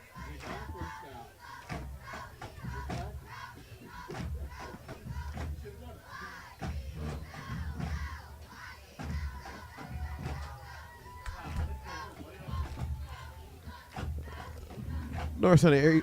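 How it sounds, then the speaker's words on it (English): Norristown Eagle cheerleaders shout a traditional yell cheer at a homecoming high school football game in unison, in rhythmic chanted bursts over crowd noise. An announcer's voice is also present. "Norristown Eagle cheerleaders doing a traditional YELL cheer"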